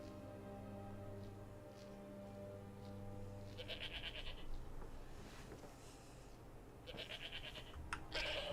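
Goat bleats in Skyrim Anniversary Edition on a farm in Rorikstead, a few bleating calls over low game ambience and steady background music.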